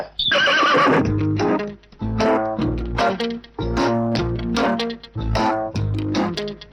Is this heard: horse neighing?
yes